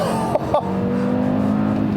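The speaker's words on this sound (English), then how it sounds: "It's such a charismatic, characteristic wail." A 2019 Audi RS3 turbocharged five-cylinder engine holds a loud, steady wail with a couple of quick throttle blips near the start.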